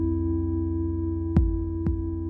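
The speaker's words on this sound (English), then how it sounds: "these are just like really slow, just sine waves" Slow sine-wave synth voices on an Elektron Digitone hold a steady, sustained drone of layered pure tones, with two brief clicking hits cutting through partway along.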